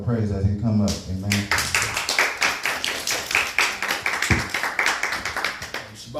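Congregation at a Shabbat church service clapping hands together in a steady, even rhythm, loud and close, following a short stretch of a voice speaking over music.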